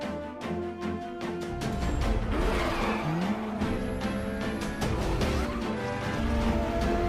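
Supercars racing at speed in a Need for Speed film, with loud continuous engine roar, tyre squeals and skidding, and a rising revving pass near the middle, all dense and sustained with no talk.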